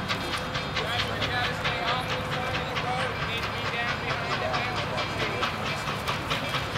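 A train rolls along the tracks with a steady rhythmic clickety-clack of wheels over rail joints, a continuous rumbling run heard fairly close.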